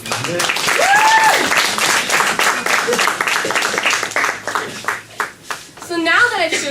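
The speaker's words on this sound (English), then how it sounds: "So you can just give our personas a round of applause" A crowd claps steadily for several seconds, with scattered voices calling out and cheering over the applause.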